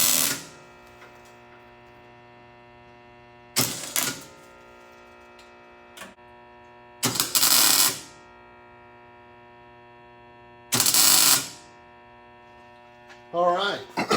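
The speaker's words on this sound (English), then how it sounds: "All right, we got everything ground and cleaned up and ready to weld it" Welding inside the battery box of a Dale Earnhardt Jr NASCAR COT race car comes in four short, harsh buzzing bursts up close, separated by stretches of steady electrical hum and a few faint ticks.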